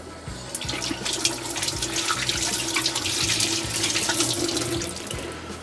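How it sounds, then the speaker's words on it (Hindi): Water running steadily from a kitchen tap into a sink while hands are washed, a close, continuous splashing rush with slight shifts as the hands move under the stream. "हाथ धो लेते हैं और फिर आते हैं।"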